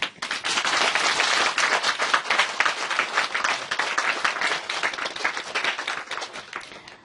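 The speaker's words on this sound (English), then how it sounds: "We applaud them, huh?" A large audience at a spiritual lecture applauds, dense and steady clapping that holds for several seconds before tapering off, with no talk over it.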